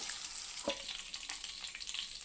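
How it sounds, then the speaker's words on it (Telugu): Eggs frying lightly in a pan for a Sunday shrimp and egg curry, a soft steady sizzle with a brief scrape of a utensil partway through, close and alone without talk. "లైట్గానే ఇలాగా ఫ్రై చేసుకొని తీసేసుకోవాలి"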